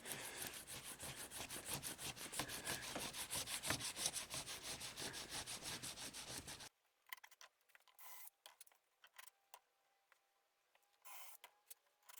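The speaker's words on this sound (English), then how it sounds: "I'll take the steel wool in here as a final." Steel wool scrubs over a molded cement Adirondack chair in fast, even back-and-forth strokes for several seconds, close and gritty, then gives way to scattered light scrapes and taps.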